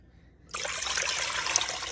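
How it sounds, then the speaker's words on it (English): Four cups of filtered water pour steadily into a seasoned pan, starting abruptly and continuing as a bright, close, splashing stream with no talking. "I've got 4 cups of water, filtered water, okay? Going in this wonderfully seasoned pan."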